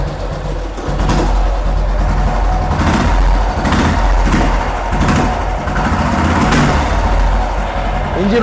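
A Royal Enfield motorcycle engine starts and settles into a steady idle, its single-cylinder thump pulsing evenly and close by.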